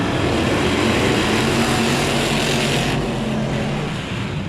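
Vintage modified race cars roaring around Accord Speedway, a dense continuous engine drone of several cars running three wide into a corner, loud and sustained with slight fading near the end.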